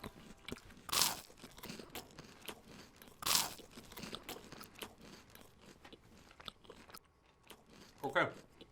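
Someone bites into a crispy pickle close to the mic, giving two loud crunches followed by quieter chewing and a final crunch, while people speak softly in the background.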